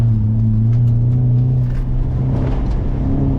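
A car engine drones loudly and steadily under throttle on an autocross course, a deep continuous rumble with slight pitch shifts as revs change, heard close without talk.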